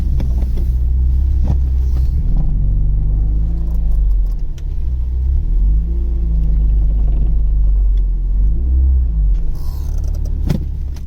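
Vauxhall Cavalier CD parked since 2003, its engine running steadily with a loud low rumble and a slightly uneven idle, close to the microphone throughout with no talking.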